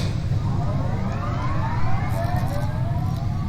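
Jet engine power supplies inside a spaceship in The Expanse video game, a loud steady whine with slowly rising and falling tones over a low rumble, no talking.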